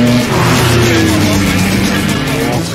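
A heavy car accelerates hard and roars away, its engine loud and close in a continuous rising drone lasting a few seconds, with a voice faintly beneath.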